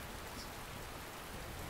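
Soft, steady rain falls continuously in a quiet interior scene of a Chinese period drama, a faint, even hiss with no voices.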